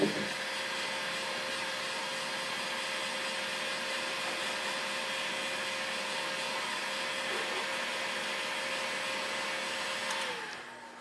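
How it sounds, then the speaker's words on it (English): Heat gun warming a motorcycle seat on a Norton, a steady continuous blowing whine held close and even for about ten seconds before tapering off. "the way we do this is we're going to warm it up with the heat gun."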